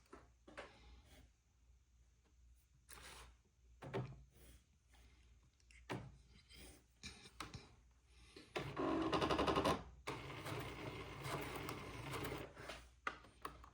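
A home sewing machine stitches a quarter-inch seam on a baby bubble romper, sounding in short bursts with pauses and clicks between them, then running in one longer steady stretch.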